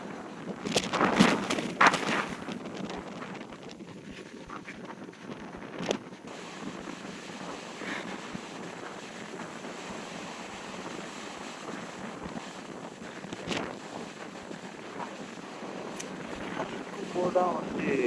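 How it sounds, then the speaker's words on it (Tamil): Strong wind buffets the microphone over open water, a steady rushing roar with louder gusts at the start and end, while a voice talks faintly underneath. "அடிச்சு இப்படி தள்ளுது காற்று."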